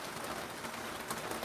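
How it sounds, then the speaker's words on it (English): Outdoor rainfall on a farmhouse-style patio, a soft continuous patter with scattered drops, quiet and steady with no voices. "We can listen to the rain together."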